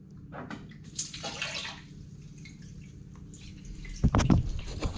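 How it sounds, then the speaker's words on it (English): Water siphoned through a clean length of hose, heard as soft trickling and sloshing with a brief louder gurgle of splashing near the end, close by and with no talking. "We'll siphon it out."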